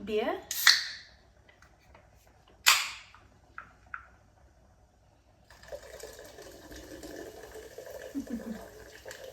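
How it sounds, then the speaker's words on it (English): Non-alcoholic malted beer pours from a can in a home kitchen while ale is being made, a steady foamy liquid rush that follows a few sharp clicks and taps, heard close. "I'm going to pour in this. So this is kind of the non-alcoholic malted beer."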